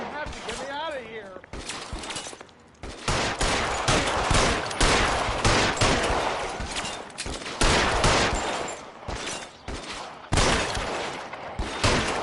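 Dense bursts of rapid gunfire in a PS4 video game run almost continuously and loudly, mixed with character voices talking and shouting throughout.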